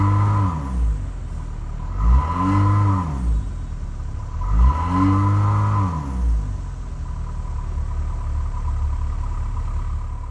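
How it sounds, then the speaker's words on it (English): A 2024 Dodge Hornet R/T Plus compact SUV idles steadily while being revved three times in a row, each rev rising and falling in pitch with a deep dual exhaust rumble, recorded close by. "since we got the functional dual exhaust on this Hornet RT, let's see how it sounds"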